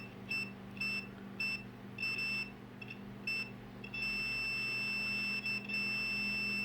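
A digital multimeter's continuity-test beep during a racing drone build, several short, sharp electronic beeps close by, then a longer sustained tone, over a low background hum.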